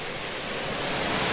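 A two-tier waterfall beside a river, heard as a loud, steady broadband rush of falling water that fills the whole moment with no voices over it.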